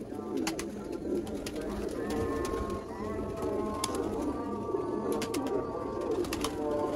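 Pigeons cooing, with soft repeated throaty coos over a busy outdoor bed of bird chatter and sharp chirps, fairly near and steady.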